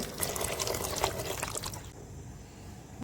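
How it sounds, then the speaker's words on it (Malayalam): Two and a half cups of boiled water pour steadily into chicken majboos gravy, a soft close splashing and trickling that runs about two seconds before fading to quiet. "ഇതിൻ്റെ അകത്തേക്ക് നമ്മൾ തിളപ്പിച്ച രണ്ടര കപ്പ് വെള്ളം കൂടി ഒഴിച്ചെടുക്കുന്നുണ്ട്"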